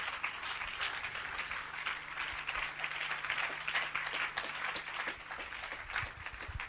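A church congregation claps during a Sunday morning sermon, a dense patter of many hands that runs steadily for several seconds at moderate level, with no talking over it.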